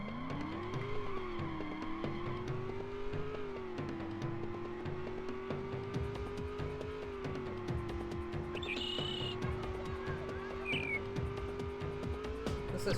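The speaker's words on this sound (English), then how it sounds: "didn't realize I had the Formula 1 car unlocked. Let's try it." A Formula 1 car in the racing game Rush 2 roars at a steady high-revving whine, the engine pitch rising and dipping through gear changes, with tire skids and squeals scattered over it, loud and continuous.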